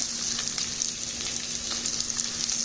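Smashed, already boiled potatoes brown in clarified butter over high heat, producing an even, dense sizzling hiss with faint pops and a low steady hum beneath, close and uninterrupted.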